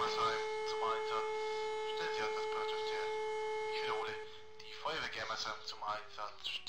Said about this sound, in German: Sirene!